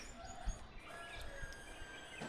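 A sparrow calls in short, faint chirps against a quiet outdoor backdrop at Kanthalloor, with a few brief soft knocks and rustles mixed in.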